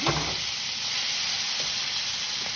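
Coriander and mint sizzle in hot oil for a pickle, a steady close hiss with a few faint stirring knocks and no talking.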